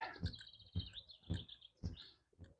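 A bird sings a bright, repeated phrase, faint and somewhat distant, beside the River Tweed in the Scottish Borders, with soft low thumps recurring underneath in a steady rhythm.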